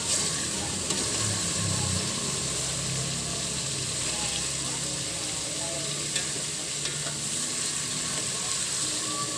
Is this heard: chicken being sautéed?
yes